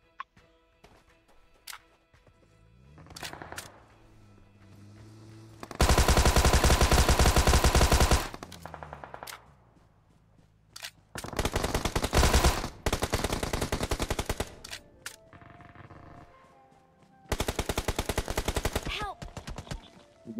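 Rapid automatic gunfire in the mobile battle royale game PUBG Mobile, loud sustained bursts of shots arriving in three long volleys separated by quieter gaps with distant single shots.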